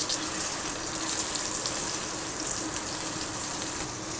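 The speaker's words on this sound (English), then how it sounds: "So we're not sauteing the steak, we're like pan searing it essentially." A steak pan-searing in hot olive oil in a cast iron pan gives a loud, steady, hissing sizzle that holds evenly from start to finish with no talking.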